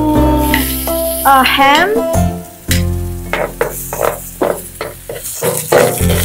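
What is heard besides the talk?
frying egg and instant noodles in a pan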